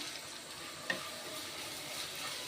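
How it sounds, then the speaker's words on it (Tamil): Large, roughly chopped onions fry in hot oil with a soft, even sizzling hiss and a single faint tap partway through, quiet and steady with no talking. "ரெண்டு பெரிய வெங்காயம் இப்படி புடிசாக கட் பண்ணிக்கோங்க இதை இப்போ எண்ணெயில் ஆட் பண்ணிக்கலாம்"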